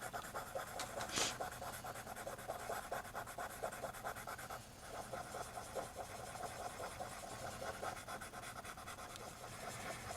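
A cotton swab rubs over a charcoal drawing on paper in small blending circles, making a soft, faint, continuous scratchy rubbing close to the microphone.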